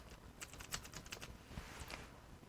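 Quick, faint clicking of keys on a computer keyboard as a name is typed, a burst of rapid taps followed by a few slower strokes.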